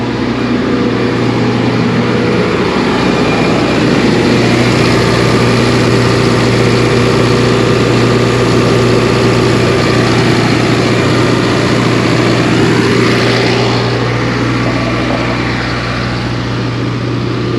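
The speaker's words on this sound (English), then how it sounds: "And you can see the engine kicks in." An XQ125 portable generator engine runs steadily after starting, a loud, continuous, even drone with no voices over it.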